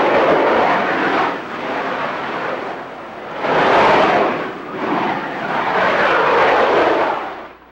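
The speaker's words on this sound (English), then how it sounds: "Sudden loud gas jetting noises startle us and send us scrambling back from the rim." Loud volcanic gas jetting from vents near a lava lake on Kilauea: a powerful, roaring rush that swells and dips in several surging waves, close and overwhelming.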